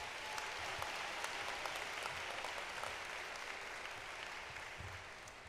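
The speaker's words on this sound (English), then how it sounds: "Let's give our fellow board members a round of applause." Steady, moderately distant applause from the audience at a university health sciences commencement ceremony, as board members are recognized, with an even wash of clapping throughout.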